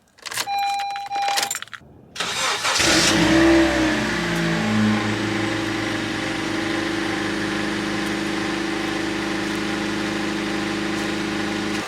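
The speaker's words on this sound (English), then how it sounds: "Time for a cold start on the Honda." Keys jingle near a Honda car before its starter cranks and the engine cold-starts, briefly revving up and then settling into a smooth, steady, close idle that continues to the end.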